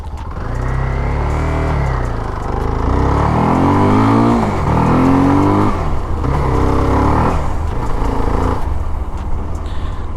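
A CFMOTO 300SR 300cc motorcycle climbs a hill road, its engine loud and close as it revs up repeatedly through the gears in rising, falling sweeps.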